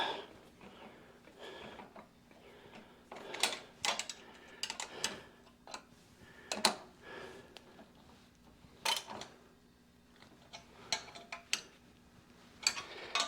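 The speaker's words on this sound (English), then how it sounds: "I've got the bolts in here on this crossbar on the front of the unit. Let's go ahead and tighten the bolts up." Bolts being tightened on the front crossbar of a 2024 Hive Lifter, with self-locking safety nuts: quiet, irregular metallic clicks and ratcheting ticks in short bursts, close by in a calm room.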